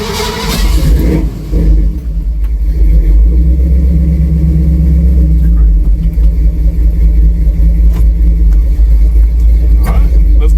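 A 1966 Ford Bronco's engine rumbles deep and loud from inside the cab, settling into a steady low drone as the truck pulls away with the window open.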